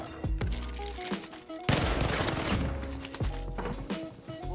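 Rapid automatic gunfire rattles in bursts in a Call of Duty Warzone gunfight, with sharp repeated shots over a busy game soundscape and a denser barrage in the middle.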